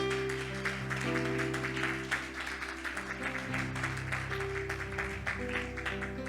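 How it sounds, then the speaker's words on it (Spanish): A church congregation applauds during a Spanish-language worship service, steady clapping spread across the room with music tones sustained underneath throughout. "Así que vamos a darle un aplauso al Señor."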